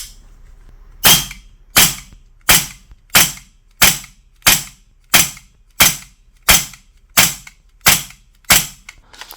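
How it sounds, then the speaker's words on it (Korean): GHK G45 gas blowback airsoft pistol, a Glock-style replica fed from a V2 magazine charged with 22 kg gas, firing thirteen sharp, loud shots at a steady, evenly spaced pace, close up with no talking. "여기서부터 차례대로 쏴볼게요."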